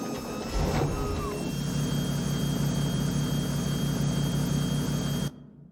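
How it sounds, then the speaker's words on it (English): Custom truck engine sound in American Truck Simulator idling: a steady low droning hum with a high whine, holding level for several seconds before cutting off abruptly. "that tells us that the engine's idling here, and then it'll start to take off here"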